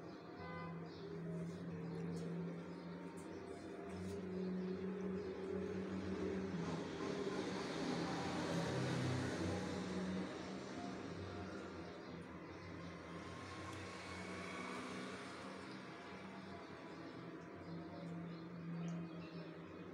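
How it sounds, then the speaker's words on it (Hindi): An electric blender whirs as it blends semolina firni dessert, a faint, steady motor drone that swells slightly in the middle and holds for about twenty seconds. "अब जी हमें इसे एक ब्लेंडर में डालेंगे और इसे ब्लेंड करेंगे।"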